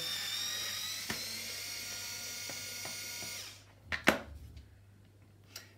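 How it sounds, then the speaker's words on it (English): A power screwdriver removes a screw from the front frame of a Baby Jogger City Elite stroller. It whirs steadily and loudly for about three and a half seconds, then stops, followed by a few sharp clicks and handling knocks. "Under that sticker is another screw that you want to unscrew."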